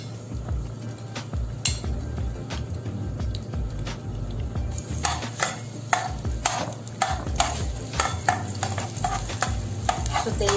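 Garlic sautés in oil for pork ribs Bicol Express, a low sizzle under frequent clinks and scrapes of a utensil stirring against the pan, growing busier and sharper in the second half.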